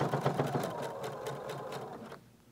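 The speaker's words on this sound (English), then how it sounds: "I'm just going to sew about 3/8 of an inch at that nice tight seam allowance" A sewing machine stitching a seam on a sundress runs in a steady, fast, even whirr at close range, then stops near the end.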